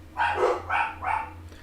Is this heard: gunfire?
no